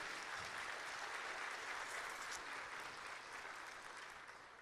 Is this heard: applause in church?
yes